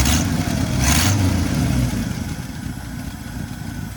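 A 1971 Chevrolet C10 pickup engine running with an exhaust leak, a loud, close, rough low rumble with two brief hissing puffs early on, then settling into a steady idle.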